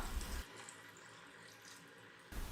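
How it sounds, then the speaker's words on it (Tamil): Hot water pours over cauliflower in a continuous rushing stream, a short burst of louder splashing at the start and end framing a quieter, even flow. "நல்ல தண்ணியை கொதிக்க வச்சு இதில் சேர்த்துக்கலாம்"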